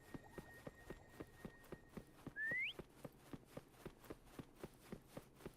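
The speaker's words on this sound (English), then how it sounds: "Try whistling." A character in Wuthering Waves gives one short rising whistle to call Foam, heard over a steady, evenly spaced run of footfalls or hoofbeats at a quiet level.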